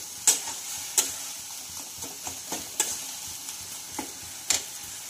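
Amla chutney with melting jaggery cooking in a pan: a low bubbling sizzle broken by regular sharp spoon scrapes and taps against the vessel, close and without speech.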